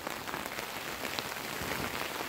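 Steady rain patters on a tent, a dense, even hiss of drops with no voices, fairly soft and continuous throughout.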